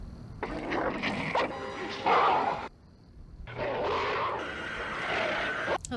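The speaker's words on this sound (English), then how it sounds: "I like how they keep the dog barking in the background, the transition." A dog barks in the background of a scene from the 1973 film The Exorcist, its rough bursts mixed into dense film sound and ambience with no clear silence between them.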